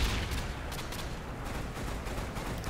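Dense gunfire from a Call of Duty match rattles in quick bursts, forming a continuous, fairly faint barrage of shots with no clear voices over it.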